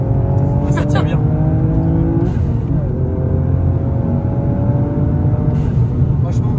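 A car accelerates over cobblestones, its engine a loud continuous drone with a rising pitch sweep early on, while a rumbling road texture runs throughout and people talk over it.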